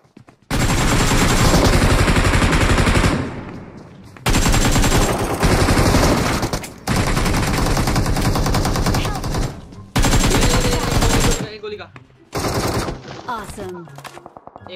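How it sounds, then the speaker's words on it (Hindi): Automatic gunfire in the mobile battle game BGMI, loud close bursts of rapid fire lasting several seconds each with short gaps, ending in scattered shorter volleys. "एक बंदा पीछे फायरिंग दे रहा।"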